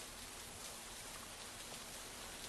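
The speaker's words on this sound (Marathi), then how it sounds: "आपण बघतोय मुसळधार पाऊस सुरू आहे." A cloudburst-like downpour in America keeps up a dense, even hiss of heavy rain with no breaks, heard alone without voices.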